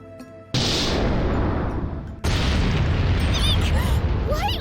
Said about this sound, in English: Deploying torpedoes.